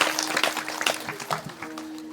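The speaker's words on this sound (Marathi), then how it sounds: "टाळ्या वाजवायच्या एकदा जोरदार" An audience at a kirtan gathering claps loudly in a dense, continuous burst of applause, with a faint sustained tone beneath it.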